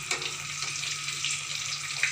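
Crumb-coated fish sizzles steadily in hot oil in a pan, a continuous close frying hiss with small pops throughout.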